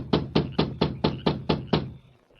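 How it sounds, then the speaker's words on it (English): Seven firm knocks on a wooden bunkhouse door in an even, measured rhythm, close and loud, followed by brief quiet. "he rapped on the door."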